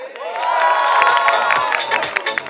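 Audience at a Women's Day and spring festival celebration claps and cheers loudly and continuously, a dense mix of applause, whoops and shouting children close by.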